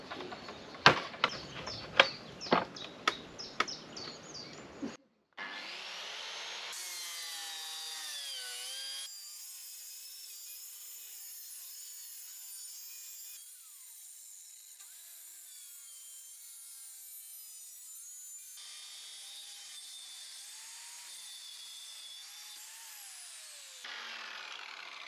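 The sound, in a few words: circular saw cutting wood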